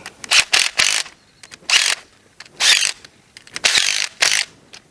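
A ratcheting nut driver tightens bolts on a main feeder cable, with repeated short bursts of rapid clicking, close and crisp, separated by brief pauses.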